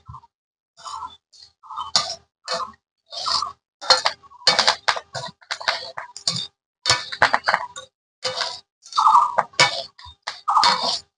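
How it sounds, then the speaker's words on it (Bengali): A spoon scrapes and clinks against a pan while chickpeas are stirred and roasted dry, in short irregular bursts of close metallic clatter separated by brief pauses. "একটুখানি সময় এইভাবে খালি নেড়ে চেড়ে নিতে হবে"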